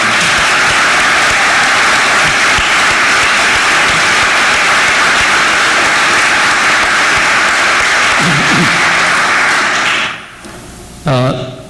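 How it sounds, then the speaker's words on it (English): Sustained loud applause from an audience in a lecture hall at SCI-Arc, dense and even for about ten seconds before dropping away abruptly, followed by a brief burst of sound near the end. "I'd ask for your applause"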